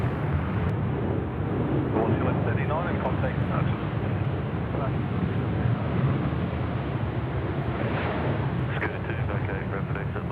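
An airliner in special Pokémon livery arriving at Sydney Airport, a loud continuous broadband jet roar that holds steady throughout, with a voice speaking over it in places.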